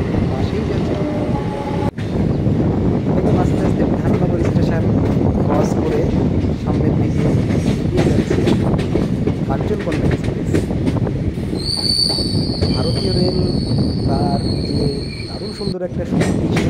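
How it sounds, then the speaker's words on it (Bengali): A Kolkata local train and the Kanchankanya Express run past close by, with a loud continuous roar, rattling wagons and squealing wheels. Faint voices may sit beneath the noise, and a high whine of brakes or wheels appears near the end. "মাঝে যাচ্ছে কাঞ্চনকন্যা এক্সপ্রেস"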